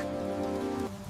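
Steady rain falls on a rainy night, a dense continuous hiss of drops with a low tonal hum underneath, loud and unbroken for the whole short stretch.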